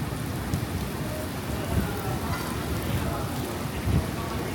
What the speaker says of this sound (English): Now severe thunderstorm, lightning, it's rain here.